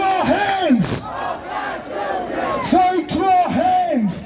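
Crowd at a Freedoms and Rights Coalition protest march in Christchurch, New Zealand, roaring and whooping in repeated loud swelling shouts, near and dense.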